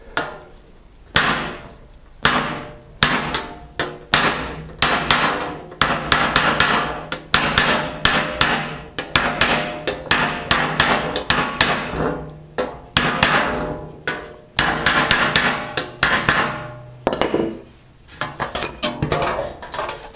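A hammer flattening a solid copper sheet for repoussé, a long run of sharp metallic strikes, some in rapid clusters and some spaced apart, ringing close and loud with brief pauses between bursts.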